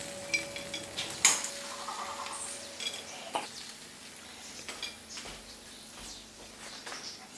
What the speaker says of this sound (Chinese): 加入花生米，略微翻炒即可出锅